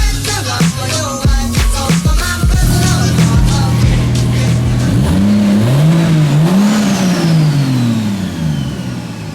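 A stock Toyota 2JZ-GTE VVTi with a Garrett GTX3076R Gen2 single turbo revving on a dyno, a loud close engine blipping several times then sweeping up and down in pitch, with a faint turbo whistle rising near the end.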